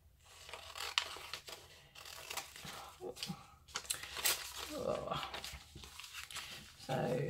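Scissors cutting paper for a vintage-style tea tag, a series of close, sharp snipping and crinkling sounds in irregular bursts, fairly quiet with small pauses between cuts.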